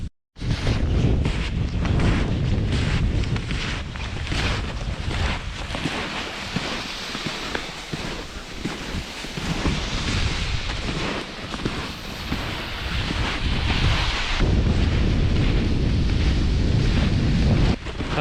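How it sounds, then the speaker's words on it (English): Strong wind on a very windy day while snowshoeing, loud and constant as it buffets the microphone in heavy roaring gusts for the whole stretch, with only a brief lull at the very start. "Oh, we can sure notice the wind now."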